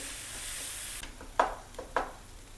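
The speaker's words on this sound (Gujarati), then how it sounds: "ટમેટું ચડી જાય ત્યાં સુધી આપણે એને સોતળવાનું છે" Tomato pulp sautéing in a pan for a spinach curry, giving a steady soft sizzle and then a few sharp scraping stirs of the spoon, moderately quiet and close.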